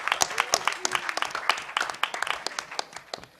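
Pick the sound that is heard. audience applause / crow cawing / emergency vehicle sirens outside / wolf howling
audience applause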